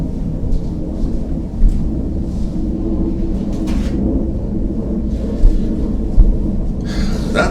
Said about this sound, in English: we've got a little military flyover right now